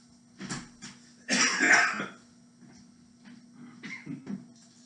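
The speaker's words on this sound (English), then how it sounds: "Mr. Todd's coughing in the kitchen." A man coughing in a kitchen, heard as a few faint, distant rough bursts, one stronger than the rest, over a low steady hum.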